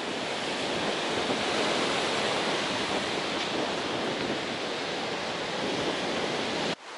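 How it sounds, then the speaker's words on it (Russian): Big sea waves crash and roar in strong wind on the Curonian Spit, a steady, dense wash of surf and wind noise filling the whole stretch with no voices. "Ветрище ужасный. И крайне пугающие волны."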